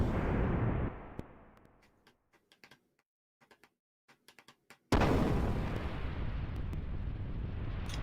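Heavy blasts from a ship's gunner firing, a loud roaring boom that decays, then scattered faint clicks and ticks, followed by another loud sustained blast.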